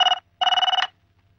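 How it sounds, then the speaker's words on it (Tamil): A telephone rings in a home, two bursts of bright electronic trilling separated by a short gap, close and loud with a faint low hum underneath. "ஃபோன் பண்ணி அடிக்கிது பாருங்க"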